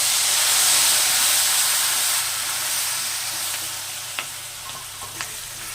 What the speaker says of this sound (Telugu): తాలింపులో వేయాలి. కరివేపాకు వేయాలి.